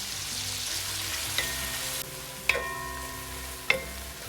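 Two medium onions with half a teaspoon of salt fry in a pot for Kerala-style mutton biryani, making a steady close sizzle broken by a few sharp metallic clinks from stirring, with no voices.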